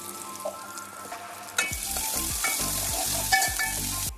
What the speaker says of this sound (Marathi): यामध्ये जिरे मोहरी कांदा टाकून कांदा छान लालसर होईपर्यंत परतवून घ्यायचा आहे